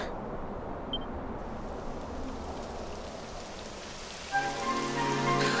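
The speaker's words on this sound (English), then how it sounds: "It would have to go and start raining, wouldn't it?" Steady rain in Dragon Quest XI S patters on a surface, a dense even hiss that continues throughout, with a faint tonal sound entering near the end.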